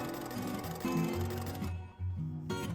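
A sewing machine runs steadily, stitching a curved seam twice for reinforcement where a pocket facing joins a pocket bag on kimono fabric for wide-leg trousers, with a brief pause near the end before the motor starts again.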